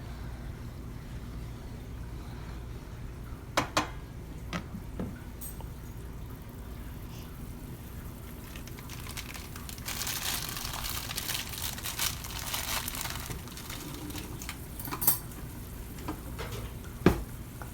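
A spoon stirs a pot of Top Ramen egg drop soup with a bay leaf in the broth, giving soft scraping and gentle liquid sloshing over a low background hum, with a few sharper clinks and a busier stretch midway.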